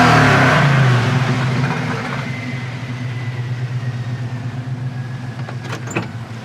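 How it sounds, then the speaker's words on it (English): A 1979 Pontiac Firebird with T-tops and an LS engine swap, loud and close, with a rev that falls away into a steady, rumbling idle that holds to the end. "1979 Pontiac Firebird, T-tops,"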